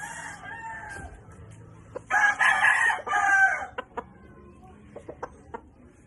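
A pure white Kelso rooster crows loudly twice in close succession, each call a strained, ragged cock-a-doodle-doo, followed by a few short clucks and scattered clicks close by.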